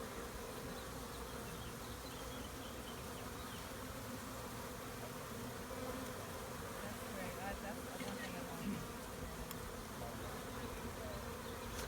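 Honeybees crawl and buzz over a person's chest while forming a bee beard, a dense continuous hum heard close and steady throughout, with low background noise.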